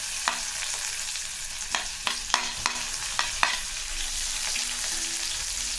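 Onion sautés in hot oil in a pan with a steady soft sizzle, punctuated by several sharp scraping clicks of a spatula stirring.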